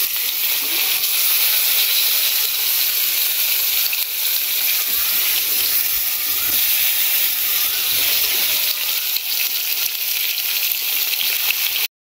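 A pressure cooker releases steam in a steady, loud, unbroken hiss while a spicy fish curry with drumstick stalks and potatoes cooks, running close by until it cuts off abruptly at the end.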